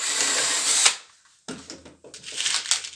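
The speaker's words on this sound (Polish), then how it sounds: "Nawiercam sobie wiertło trójeczka." A drill boring a pilot hole with a 3 mm bit into a wooden pallet during a workbench build, whining loudly for about a second, then pausing before a second stretch of uneven mechanical whirring.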